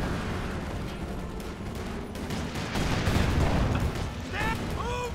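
Battle gunfire in Company of Heroes 2, a dense continuous rattle of rifle and machine-gun shots with heavier booms mixed in, steady and loud throughout, with voices calling out over the fighting.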